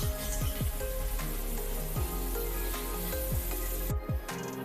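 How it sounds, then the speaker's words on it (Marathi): Garlic and green chilli paste sautés in hot oil with a soft, continuous sizzle, while sharp metallic clinks and taps ring out repeatedly over it; no one speaks. "आता आपण हे अगदी अर्ध्या मिनिटासाठी चांगलं तेलावरती परतून घेणार आहोत"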